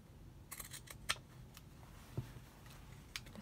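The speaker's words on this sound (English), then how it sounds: "So we just trim them away, but be careful you don't cut any of the line you just stitched." Scissors snip away excess fabric at the corners of a stitched octagon face mask, a few faint, sharp close clicks spaced apart in a quiet room.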